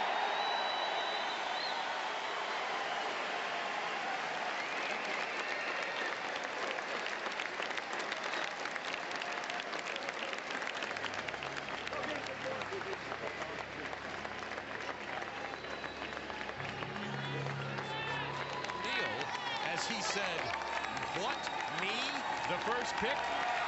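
An arena crowd of about 8,000 fans cheers and applauds the first pick of the 1992 NBA Draft, a dense roar of clapping and shouting that holds steady throughout with voices mixed in.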